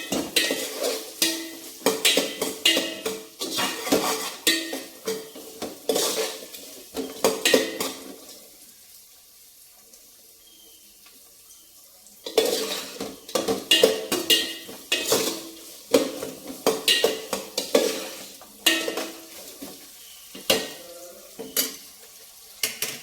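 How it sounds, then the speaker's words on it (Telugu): Biryani spices, including bay leaf, cardamom, cinnamon and cloves, fry and get stirred in a pan for bagara rice, with busy clattering scrapes and sizzle, a quiet pause in the middle, then more vigorous stirring. "బిర్యానీ పైసెస్ మొత్తం వేసి వేగనివ్వాలి"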